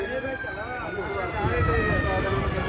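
A wailing emergency siren rises and falls steadily at moderate loudness for the whole stretch, with voices underneath.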